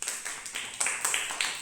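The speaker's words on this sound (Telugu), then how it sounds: "Very good, claps." Young children in a first- and second-grade classroom break into short bursts of clapping, several quick rounds of claps in close succession over a faint room background.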